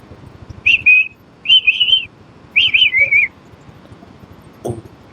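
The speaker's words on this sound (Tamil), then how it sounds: "பறவை அதெல்லாம்" A bird calls three times in short, warbling whistled phrases, clear and fairly close, with a faint click afterward.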